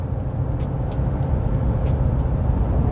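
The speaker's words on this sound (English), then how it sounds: "Boom, another downshift." A Ram 1500 truck with a 5.7L HEMI V8 tows a load at highway speed, its engine and road noise droning steadily and loudly from the cab, with no clear gear change standing out.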